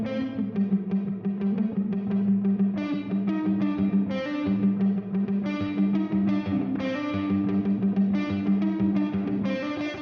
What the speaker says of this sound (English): So it just sounds like it's something really heavy on the reverb, sort of like an ambient background effect